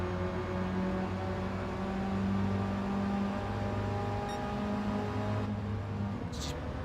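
Honda RA272 1960s Formula One race car in Gran Turismo 7 at a Goodwood Revival night event: a steady, droning engine hum holding a constant pitch, with a brief shift near the end.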